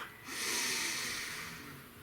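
A slow, deep breath is drawn in and released during a guided meditation: one long, airy, breathy exhale heard close up with no talking.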